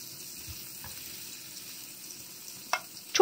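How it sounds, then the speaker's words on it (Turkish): Meatballs fry in a pan as part of preparing mini meatball pizzas, a quiet, steady sizzle with a few louder pops and clinks near the end. "Köftelerimiz güzel bir şekilde kızardı."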